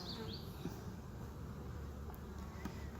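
Dense, steady buzzing of many honey bees around an opened hive during a walk-away split, a continuous close drone with no talk over it.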